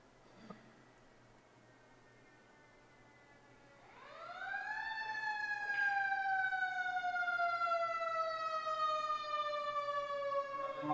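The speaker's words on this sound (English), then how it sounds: "as you can hear, maybe the fire engine in the background" A fire engine siren wails in the distance outside a snooker hall in Concord, California, rising about four seconds in and then sweeping slowly and steadily downward at a faint, far-off level over a quiet room.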